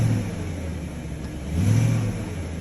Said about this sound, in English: Let me rev it a little bit.